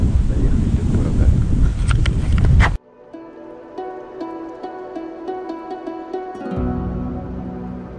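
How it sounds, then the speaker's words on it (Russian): Strong headwind near Issyk-Kul roars and buffets the microphone for a few seconds, then cuts out to a quieter steady hum with faint tones. "Очень сильный встречный ветер."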